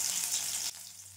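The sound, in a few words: chicken pieces deep frying in hot oil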